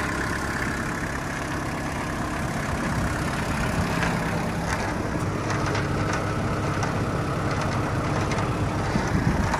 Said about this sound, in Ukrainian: Реза працює, тракторець їде.